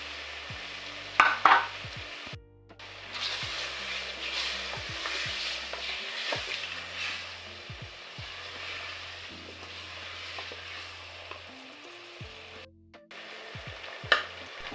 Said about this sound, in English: Next, I add diced tomatoes.